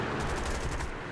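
Gunfire strikes the player's fighter plane in War Thunder, a rapid rattling burst of impacts and shots over a constant roar of engine and combat noise.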